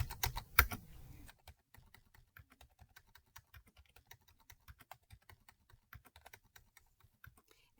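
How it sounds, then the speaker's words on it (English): Crisp, separate keystrokes on a computer keyboard tap out numbers in an irregular rhythm, close and quiet, entering figures into a spreadsheet after a louder burst of handling noise at the start. "So now I need to type in the units sold."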